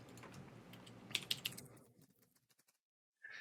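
Quiet clicks of typing on a computer keyboard, a short burst of keystrokes followed by near silence.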